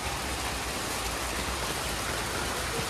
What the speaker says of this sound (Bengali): এই যে বৃষ্টি আসছে পড়ছে, দেখেন